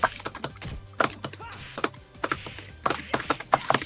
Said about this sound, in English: the keyboard or the joystick buttons you're hearing is Chan Chai side.